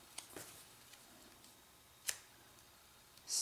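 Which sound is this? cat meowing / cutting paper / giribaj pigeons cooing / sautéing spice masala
cutting paper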